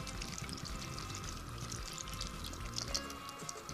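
Low sodium V8 juice pours into an Instant Pot in a steady, continuous stream that runs for the whole stretch at a moderate, close level, with no talking over it.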